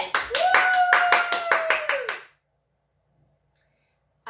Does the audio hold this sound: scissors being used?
no